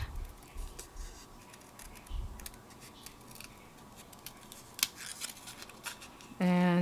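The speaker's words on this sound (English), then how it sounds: "I'm just going to cut around my little lemon." Scissors snip around a small paper lemon shape during scrapbooking card making, giving quiet, irregular close cutting and rustling with occasional sharper clicks, plus a louder buzzing burst near the end.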